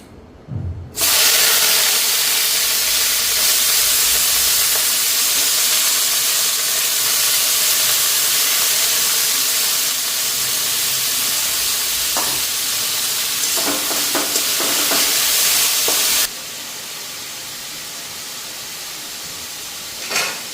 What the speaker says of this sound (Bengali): কড়াইতে তেল দিয়া দিলাম।